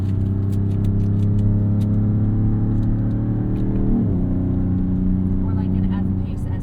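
A 2026 Dodge Charger Scat Pack 4-door engine hums in a steady loud drone from inside the cabin, with a brief dip in pitch midway as if shifting; scattered clicks and light cabin noise over it.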